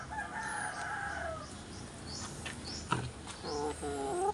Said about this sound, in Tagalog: Yan yung tandang.